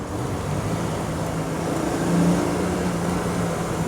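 A 1973 Triumph TR6 roadster downshifting on the road, its engine note shifting pitch over steady road and wind noise, moderately loud with no talk.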